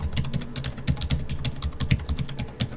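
Computer keyboard typing a username into a Sage accounting login page, a quick run of light close-up key clicks in an irregular rhythm, fairly quiet and alone.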